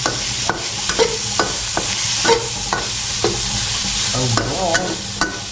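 Vegetables stirred in a hot pan, a dense steady sizzle punctuated by regular scraping strokes of a spatula roughly every half second, close and fairly loud, with no talking over it.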